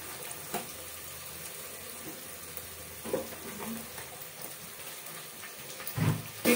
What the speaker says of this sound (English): Let me add the potatoes.